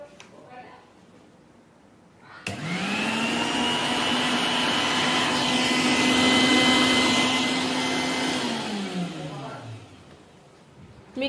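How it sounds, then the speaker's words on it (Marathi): A kitchen mixer grinder starts abruptly and runs loud and steady for about seven seconds with a whining motor hum, then winds down as it switches off, with faint home background before and after. "मिक्सर झालं चालू."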